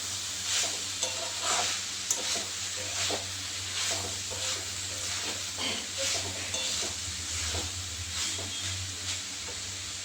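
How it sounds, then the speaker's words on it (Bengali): Coriander leaves are stirred into sizzling chicken keema filling in a pan, with a continuous hiss of frying and repeated scraping strokes of a spoon, close and steady. "এবার এর সঙ্গে ধনে পাতাটা মিশিয়ে দিচ্ছি ভালো করে।"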